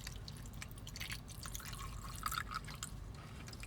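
Oxidol detergent being poured into a container, a steady trickling and dripping wash of liquid that runs for a few seconds at a constant, moderate level.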